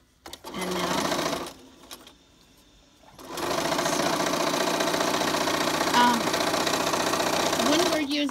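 Sewing machine stitching a cotton face mask, running in a steady motorized hum for about a second, pausing, then sewing continuously for five seconds; speech is faintly mixed in.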